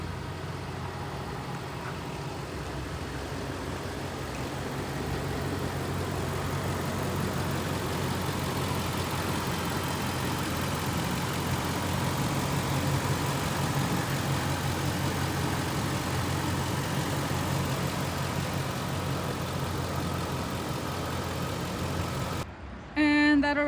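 A 2017 Ford E-350 box truck with a 6.2 liter V8 gasoline engine idles steadily, a low, even rumble heard from close by and holding unchanged for over twenty seconds before a brief cut at the end.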